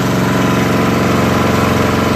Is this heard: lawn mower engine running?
yes